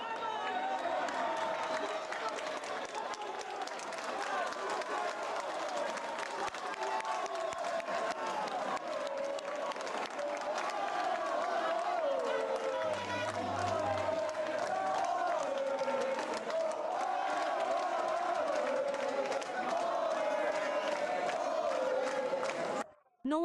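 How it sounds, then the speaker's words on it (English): A crowd of Ceuta residents cheers and applauds, a loud sustained roar of voices and shouting that fills the whole stretch before cutting off abruptly. "the residents of Ceuta cheered with euphoria and celebrated their departure with loud applause"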